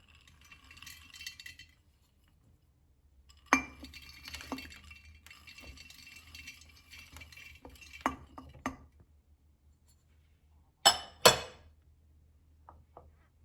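Dried currants tipped into a glass bowl for rum-soaked fruit: scattered light rattles and soft patters in bursts, with a few sharper clinks of glass near the end, close and fairly quiet.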